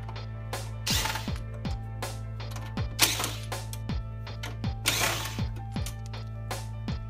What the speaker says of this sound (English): Now we're going to take out these three screws here holding this front panel.